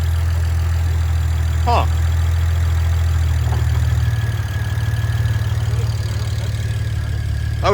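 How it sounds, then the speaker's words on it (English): A 2008 BMW E90 335i with 200k miles, fitted with upgraded turbos, idles with a low, steady engine drone and only a slight rise, and a voice briefly grunts over it. "Give it a tiny rev."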